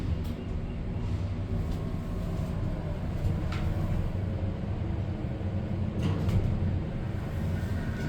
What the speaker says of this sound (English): you can still hear the motor running even after the